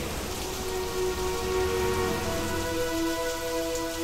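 Steady rain patters on a surface in a radio drama soundscape, a continuous dense hiss with faint tonal hum beneath and no voices.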